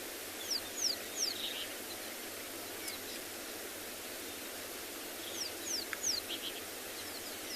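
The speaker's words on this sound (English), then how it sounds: "You can hear all the birds calling in the background as well." Several birds call and chirp in short bursts at a distance during a sunrise safari in the Kalahari bush, faint over a steady broadband hiss, with no talking.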